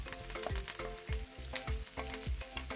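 Curry leaves, green chillies and onions sizzle steadily in hot oil for an egg curry, with a rhythmic scrape of stirring repeating about every half second, close and fairly loud, with no voices.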